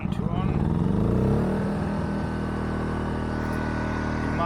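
A Mac Afric 1.8 kW inverter generator engine runs at high revs, a loud steady close drone with a brief rise in pitch early on, then holding an even tone.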